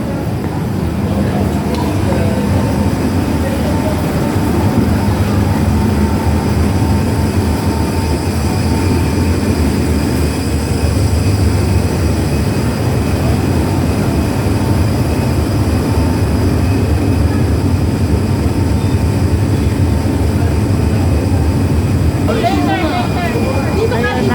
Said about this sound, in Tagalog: Sasakay na po kami ng ferry.